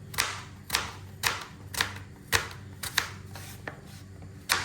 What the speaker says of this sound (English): I'm going to cut the apples